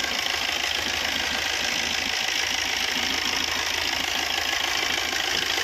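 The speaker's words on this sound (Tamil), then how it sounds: "வண்டி ரன்னிங்கில் இருக்குது, பார்த்துக்கோங்க." A 2009 Maruti Suzuki Swift engine idling, a steady, loud mechanical chatter with an even ticking rhythm close by, unbroken throughout.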